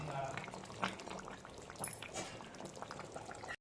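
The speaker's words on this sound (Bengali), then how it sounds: "মাছটা ঢাকা দিয়ে আমি ঝোলের সঙ্গে সেদ্ধ করে নেব" Katla fish curry simmers in a covered pot over a low-to-medium gas flame. Soft, steady bubbling and gentle popping stay faint and close throughout.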